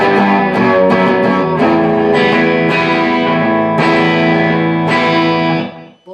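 Electric guitar plays a riff with open strings ringing. The tone is loud, distorted and sustained, with repeated strummed chords across about six seconds before it cuts off.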